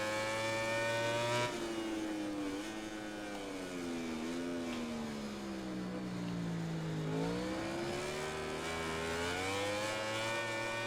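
A MotoGP 19 racing motorcycle in the video game, its engine revving hard and continuously, pitch climbing and dropping through gear changes as the bike fights wheelies out of a corner, loud and steady throughout with no talk.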